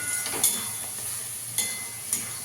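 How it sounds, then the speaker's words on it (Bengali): A ground paste of melon seeds, tomato and cashew is stir-fried in oil in a pan, giving a soft steady sizzle broken by three sharp spatula clinks against the metal. "এবার ভালো করে কষিয়ে নিতে হবে।"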